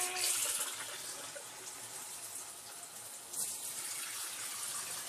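Kangen water pours in a steady stream, a continuous splashing hiss with a brief surge partway through.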